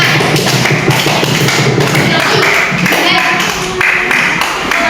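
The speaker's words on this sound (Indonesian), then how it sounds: "Tepuk tangan untuk kelompok 4." A class applauds a student group after its presentation, a loud, close and continuous wash of clapping and tapping with thuds, and a few voices mixed in.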